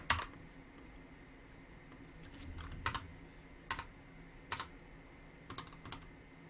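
Sparse, quiet computer keyboard keystrokes, a handful of crisp clicks in short clusters separated by pauses, as if pressing copy and paste shortcuts.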